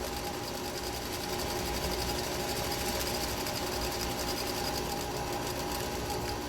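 A sewing machine back stitching a cloth face mask runs in one continuous, even mechanical whir with a fast rapid needle chatter, close and steady, with no voices.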